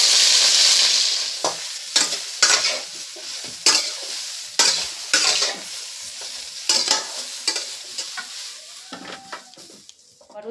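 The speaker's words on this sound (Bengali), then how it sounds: "ব্রোকলিগুলোকে ভালো করে একটু ভেজে নেব।" Broccoli fries in hot oil in a wok, a strong sizzle at the start followed by repeated scraping stir strokes in an uneven rhythm, close and gradually quieter.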